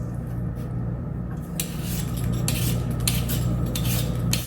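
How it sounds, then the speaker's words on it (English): Butter being spread inside a muffin tin, close and fairly loud scraping and rubbing against metal, with a quieter start before brisk continuous strokes that stop abruptly. "we're going to go ahead and butter our muffin tins"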